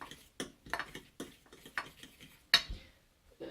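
Greens being tossed and mixed together in a bowl, a series of soft irregular taps and clinks of utensils against the bowl, close and fairly quiet with short pauses between strokes.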